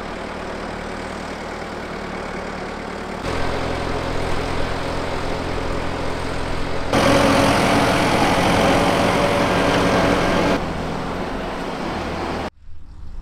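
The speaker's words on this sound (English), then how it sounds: "the customer himself is clamping the grass using a Fendt 312 and silage spreader" A Fendt 312 tractor with a silage spreader works a grass silage clamp, its engine droning loud and steady and stepping up and down in pitch and volume as the load changes.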